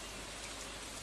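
Steady rain falls in the Stardew Valley farming game, a dense, even patter of drops that hisses alone without a break for the whole moment.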